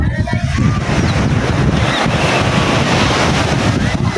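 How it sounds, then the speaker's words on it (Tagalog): Strong surf and gusting wind at Repulse Bay buffet the microphone in a dense, steady roar of breaking waves; a faint voice is briefly audible under the noise. "Lakas ang alon."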